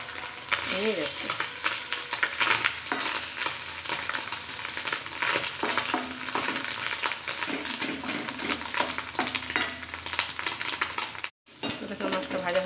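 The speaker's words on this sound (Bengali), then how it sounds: "দেখো মাছটা ভাজা হয়ে গেছে" Fish and fish roe sizzle in hot oil in a wok, a continuous crackling hiss with scattered pops and occasional scrapes of a utensil. It runs steadily for several seconds, then briefly cuts out before resuming.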